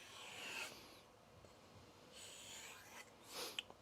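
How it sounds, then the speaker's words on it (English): A Bunka knife of Aogami 2 steel draws lightly across a bare leather strop, a few faint, soft brushing strokes in a quiet room. "I'm going to run it over this strop"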